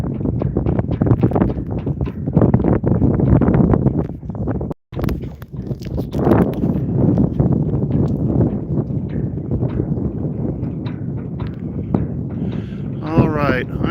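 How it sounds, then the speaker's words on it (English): Strong wind buffeting the microphone aboard a sailboat heeling over as the breeze picks up, a loud continuous roar with gusty rises and brief dropouts, someone talking over it at times. "Wind's picking up, starting to heel over."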